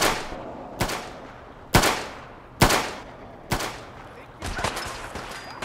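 Gunfire in the video game Fallout 4, five or six loud, sharp shots spaced about a second apart, each with a short decaying tail.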